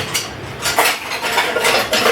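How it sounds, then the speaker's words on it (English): A sauté pan is handled in a home kitchen, a couple of close metallic clatters and scrapes rising over a low background hiss, with no talking. "Now I'm going to get another saute pan"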